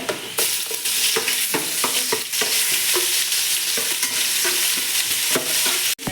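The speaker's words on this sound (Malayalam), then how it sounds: "ചൂടായിട്ട് കുരുമുളകിട്ട് ഗ്രാം ഏലക്കായി ഗ്രാമ്പു വെളുത്തുള്ളി എടുത്ത്" Black pepper, cardamom, cloves and garlic fry in hot oil for kabsa, a continuous close sizzle broken by repeated scraping stirs of a spoon against the pan, with no talking.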